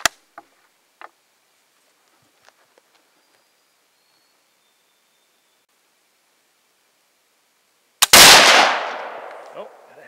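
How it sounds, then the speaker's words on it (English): A hang fire: a few faint clicks and taps, then about eight seconds of near silence before a sudden loud gunshot that trails into a long, fading roar. "Oh, had a hang fire in that one too."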